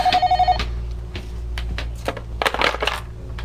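A telephone rings with a short electronic trill at the start, followed by handling clatter and bumps as the receiver is picked up, close and fairly loud, with no talking.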